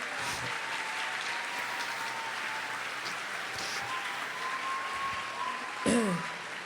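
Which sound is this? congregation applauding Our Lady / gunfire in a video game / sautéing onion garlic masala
congregation applauding Our Lady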